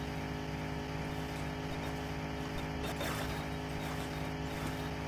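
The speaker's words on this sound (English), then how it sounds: "And that engine sounds like it's running awful hard." Car engine straining hard in The Long Drive driving game, a continuous low drone with steady harmonic hum at constant moderate level, no voices over it.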